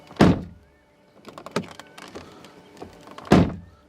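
Volkswagen Tiguan car door shutting, giving two heavy, solid thuds at the start and end with lighter clicks and rattles of the door mechanism between them, close and distinct.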